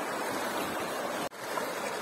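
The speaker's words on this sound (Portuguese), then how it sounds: "Nossa, tá bem forte a correnteza" Strong river current rushes steadily during a knee-deep trail crossing on the Arctic Circle Trail, a loud broadband wash of water with one brief dip partway through, no voices.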